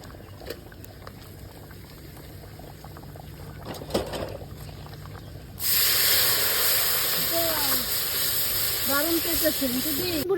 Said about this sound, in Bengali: খিচুড়ির ফোড়ন দেওয়া হচ্ছে এখন